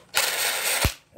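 A short-nose impact wrench fires one brief, loud burst of rattling hammering, close up in a shop during a door frame build, starting and stopping abruptly within about a second.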